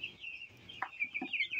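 Chickens cluck in short, scattered calls at moderate distance, with a steady high chirping in the background, as ten birds are caught for weighing on a poultry farm.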